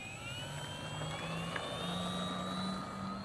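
An E-flite AT-6 1.5 m RC model airplane, a tail dragger, taking off with a steady, moderately distant electric motor whine that rises slightly in pitch throughout.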